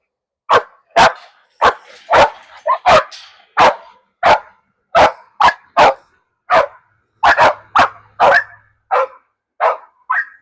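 A Rottweiler barks repeatedly and loudly up close, about twenty sharp, evenly spaced woofs with brief gaps, some doubled, and no talk over them.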